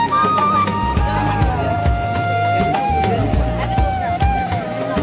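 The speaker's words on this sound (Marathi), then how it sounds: "मित्रांनो आता वाजले 3 तरी सुद्धा एवढी गर्दी आहे बघा" A dense crowd of devotees at the Dagdi Chawl darshan fills the space with continuous murmuring babble, with music or chant-like tones running underneath.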